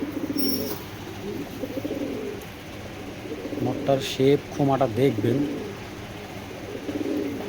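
Giribaz pigeons coo in low, rolling bursts close by, while someone talks over them throughout.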